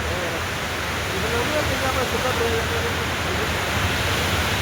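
Water churning and swirling at a canal gate on the Bhakra canal at Khanauri, a steady broadband rushing roar that fills the whole clip at close range, with no clear speech over it.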